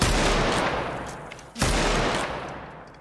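Rapid gunfire from a Roblox Wild West shootout, two loud bursts of shots with a short gap between them, close and sharp with no talking over it.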